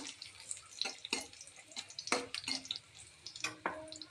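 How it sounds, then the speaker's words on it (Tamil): Raisins and cashews frying in ghee in a small pan, with sputtering crackles and wet pops in irregular bursts, close and fairly quiet, no talk. "இப்போ வந்து நம்ம திராட்சையும் முந்திரியும் நெய்யில் வறுத்து எடுத்துக்கலாங்க."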